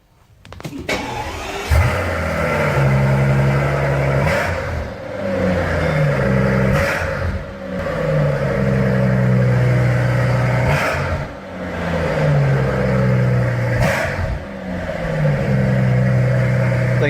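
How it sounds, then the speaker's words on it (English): A BMW 335i cranks over and fires on a cold start, then its engine is revved repeatedly in rising and falling swells over a steady idle, loud and close with a faint voice at the start. "cold start this thing and rev it a little bit."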